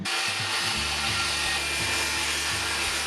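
A new jigsaw cuts maple plywood with a loud, continuous buzzing whine, its motor pitch dipping and recovering in steps as the blade bites into the wood.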